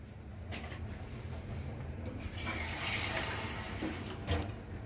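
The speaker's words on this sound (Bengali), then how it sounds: "She has put in some more water so that it doesn't get dry." Water pours steadily into a cooking pot of simmering keema ghugni, a continuous splashing rush that swells in the middle and stays close, with no talking.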